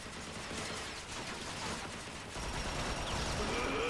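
Sustained gunfire in the sci-fi shooter Transformers: Fall of Cybertron, a dense fusillade of shots at a steady loud level throughout, growing slightly louder in the second half, with no talk over it.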